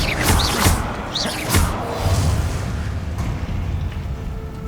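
Bombarda blasting spell impacts in the video game Hogwarts Legacy, with a couple of swelling booms early on followed by a rumbling explosive tail that fades gradually.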